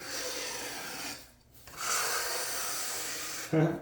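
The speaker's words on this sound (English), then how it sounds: "I have a 1/8 inch notch trowel, and just use this to help spread it out evenly" A 1/8 inch notched trowel spreads epoxy across a vanity surface, making a steady close-up scraping rasp that breaks off for a moment before a second pass.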